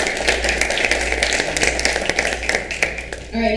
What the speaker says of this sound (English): A big round of applause for Elizabeth Basco